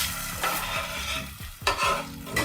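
Diced tomato tumbling into a soup pot for tortellini soup, with a low steady sizzle under repeated stirring scrapes and a few sharper clanks of a spoon against the pot, close and moderately loud.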